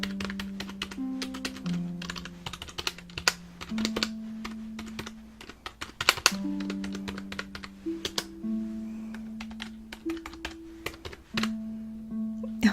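Fingers type on a computer keyboard in an ASMR session, a close, quiet stream of irregular clicks and taps over soft background music.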